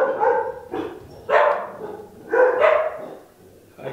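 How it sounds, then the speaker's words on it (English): A dog in a back room barks in sharp, spaced outbursts, three or four loud woofs with short whimpering yips between them, moderately close and heard without talk. "Dog attack."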